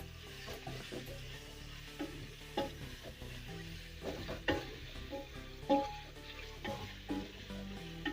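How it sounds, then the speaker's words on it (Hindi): Green chilies being stirred into a sizzling meat curry of taro and mutton make a close, continuous frying sizzle, cut by repeated clanks and scrapes of a spoon against the pot. "ये सब्ज़ मिर्च, देखो मिक्स करते इसको।"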